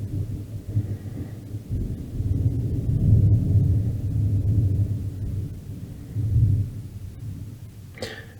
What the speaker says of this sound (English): it looks like I should be having thunderstorm activity through 9 p.m.